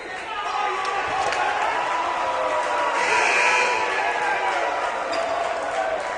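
A crowd at a men's college basketball game roars and cheers in an indoor arena, a broad steady swell that rises toward the middle, with a commentator talking over it.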